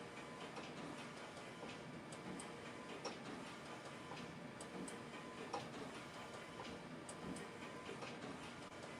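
A sublimation printer warming up and running, giving a steady mechanical hum with faint repeated ticks and clicks from the print carriage, moderately quiet and continuous, with no talking.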